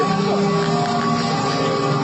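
A boat glides through a pitch-dark river cave, with a continuous, loud, even droning rumble carrying on without a break from start to finish.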